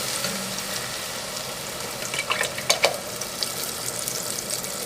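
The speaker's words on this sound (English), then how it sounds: "I'm going to pour 1 cup of heavy cream." A steady loud sizzle of frying garlic and onion with a splashing pour of heavy cream in the middle, bubbling on afterward with no voices.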